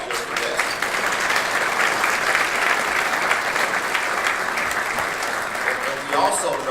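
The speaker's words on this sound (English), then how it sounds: "So we should give him an applause just for that." Sustained applause from a conference audience fills the room, steady and dense from start to finish with no break in the clapping.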